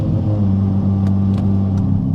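A bridgeport-ported Mazda RX-7 rotary engine with no proper exhaust, driving in traffic: a loud, steady low rumbling drone with a buzzing, uneven idle texture and faint clicks, close and continuous for two seconds.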